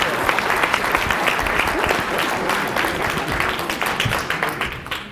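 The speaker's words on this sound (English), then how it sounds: "Give him a round of applause" An audience claps steadily in a dense, sustained round of applause, loud and close, with some voices mixed in, tapering slightly toward the end.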